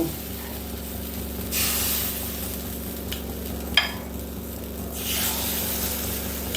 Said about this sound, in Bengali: এবার আমি আবার ছাঁচের খোপে ব্যাটারটা দিয়ে দেব।